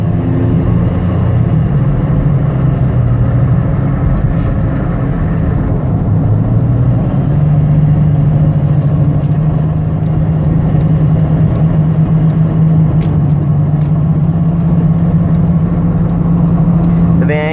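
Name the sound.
2003 Ford Windstar van engine running, transmission shifting on highway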